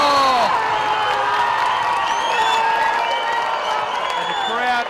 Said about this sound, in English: the crowd is going nuts from underneath us